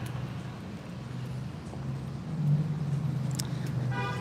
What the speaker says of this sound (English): And there's just a car honking right there.